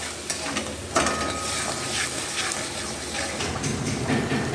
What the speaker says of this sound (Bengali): এবার কষাতে থাকবো।